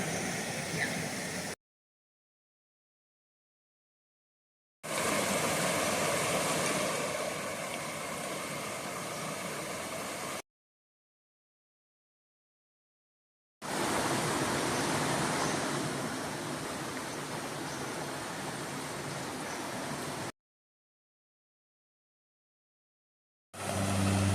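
A full creek rushes at Starved Rock State Park in Oglesby, Illinois, a dense steady roar of flowing water heard in three long stretches broken by silent gaps.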